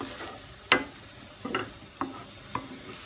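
Pork and apple cook quietly in a pan, giving a soft low sizzle broken by four sharp clicks or scrapes of a utensil against the pan.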